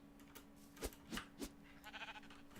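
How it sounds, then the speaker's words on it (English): Black sheep in Minecraft bleating in a few short, separate calls, fairly close and alone, with no talk. "Ah, the black sheep."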